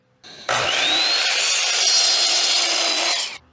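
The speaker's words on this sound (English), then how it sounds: "Next, I'm going to cut this down to length and then rip it in half" A power saw rips through a wooden board in one loud, steady cut lasting about three seconds, with a rising whine as the blade spins up and a quick stop at the end.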